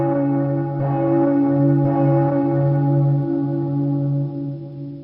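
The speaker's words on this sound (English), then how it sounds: "ring 3 bells for love." At a Christmas pageant, three bell strikes ring out about a second apart, each a sustained, resonant tone that overlaps the last and decays slowly.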